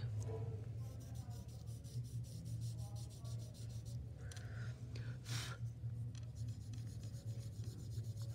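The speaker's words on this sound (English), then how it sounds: "I'm just now barely running it over the paper here." Paper tortillon blending stick lightly rubbed across drawing paper while shading a value scale, a faint, close scratchy rasp in repeated short strokes with a low background hum, no clear talking.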